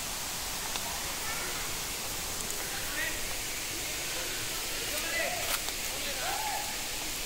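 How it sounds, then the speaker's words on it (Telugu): A waterfall near the Gubbala Mangamma temple gives off a steady, broadband rushing roar that stays even throughout, with faint higher splashes on top. "ఇక్కడ ఈ జలపాతాల్లో"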